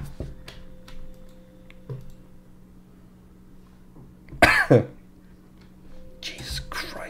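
A person coughs close to the microphone in a short burst of two harsh, loud coughs. Quiet whispering and faint keyboard clicks surround it during a Five Nights at Freddy's Sister Location play session.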